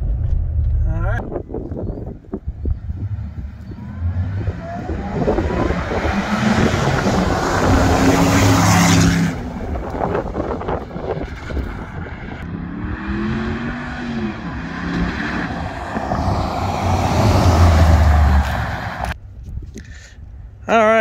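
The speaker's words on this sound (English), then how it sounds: "A little test drive in the truck, and we're listening to the supercharger." A supercharged Tonka truck engine drones and revs during a test drive, rising and falling in pitch over a steady loud rumble with a supercharger whine, while people talk over it.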